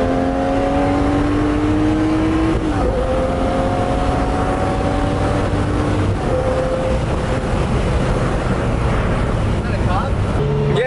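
A 640 hp Lamborghini engine drones loudly while driving, its pitch climbing through gears and dropping at each shift, with a constant roar and wind noise throughout and a voice briefly heard.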